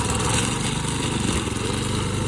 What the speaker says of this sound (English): It's like a weed eater, except it's for brush.